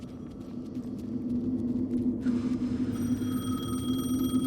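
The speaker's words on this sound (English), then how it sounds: "The phone again." A telephone rings inside the video game Alan Wake 2, a moderately loud tone over a low rumbling ambient hum, with a sharper ringing onset partway through.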